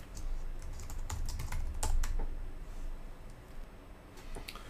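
Code being typed on a computer keyboard makes steady, close clatter with rapid irregular keystrokes and no voice.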